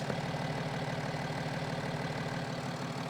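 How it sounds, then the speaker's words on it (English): BMW 525d diesel engine idling, a steady low rumble with an even, slightly knocking pulse, close and continuous with no talk. "The engine runs perfect."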